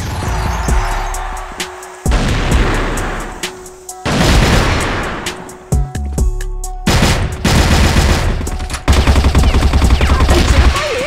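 Rapid bursts of automatic gunfire and sharp shots in a ranked match of a video game, loud and close, with pauses between volleys and occasional booms.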